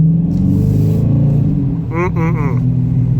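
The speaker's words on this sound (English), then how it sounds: "I do have the sports mode button pressed, which opens up the exhaust to be a bit louder." A 2019 Dodge Challenger R/T with its exhaust opened up in sports mode rumbles loudly and steadily while driving in traffic, a deep engine drone with a brief rise in revs near the end.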